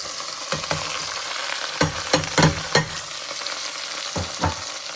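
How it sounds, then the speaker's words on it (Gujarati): Okra frying in oil in a pan as a spice masala goes in, a continuous loud sizzle broken by several sharp scraping stirs and clatters of the spoon, close up, with no speech. "અહીંયા મેં ભીંડો વઘારી દીધો છે, બસ આ મસાલો એડ કરી દેવાનો"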